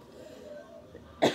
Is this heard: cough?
yes